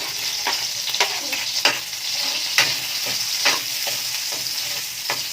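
Onions sizzle steadily while frying in a pan for mung bean stew, with a spoon scraping and stirring through them in several distinct strokes, close and fairly loud with no talking.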